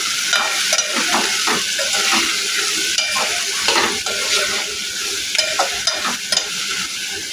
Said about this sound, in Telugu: వేసుకున్న తర్వాత ఒకసారి బాగా కలుపుకోవాలి.